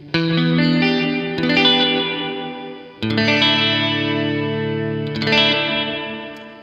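Electric guitar through a Source Audio uVerb reverb pedal, two strummed chords each swelling into a long shimmering wash of reverb that lingers and decays, loud and alone.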